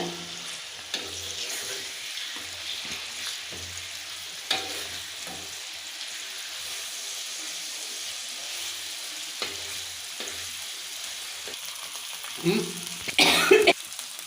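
Fish fries in a pan, golden and crisp, with a steady close sizzle that runs throughout, broken by a few soft clicks; a cough and throat clearing sound near the end.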